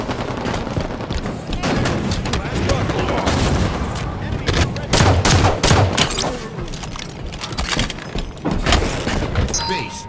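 Heavy gunfire in Halo 5: Guardians arena Strongholds play, with rapid automatic bursts, booming explosions and thuds in dense continuous volleys, loud and close, while an announcer voice speaks over the action.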